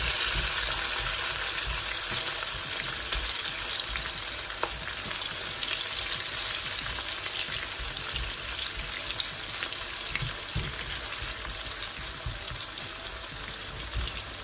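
Onions fry in a pan with tomatoes and green chilies added, a steady loud sizzle and hiss throughout with faint stirring sounds and no talking.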